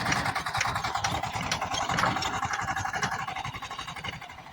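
A tractor engine runs with a steady, throbbing low rumble while the tractor is stuck in pond mud in Raghuana village. The sound stays close and fairly loud, then eases slightly toward the end.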